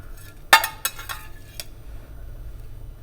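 Sharp metallic clinks and clatter of utensils against a pan as pieces of roast beef are set back into gravy, a few close hits followed by fainter scraping.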